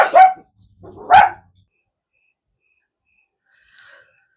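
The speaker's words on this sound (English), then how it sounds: "Oh my gosh, my dogs." Pet dogs bark twice, close and fairly loud, with short yelping bursts about a second apart, followed by a brief faint sound and silence.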